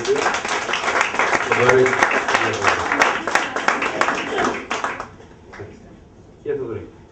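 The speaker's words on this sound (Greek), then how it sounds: "Ένα χειροκρότημα παρακαλώ." Audience at a live stand-up comedy show claps loudly for about five seconds, the applause thinning and fading out, with scattered laughter and voices mixed in.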